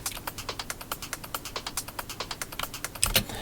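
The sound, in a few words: trance percussion thickener loop, quick and ticky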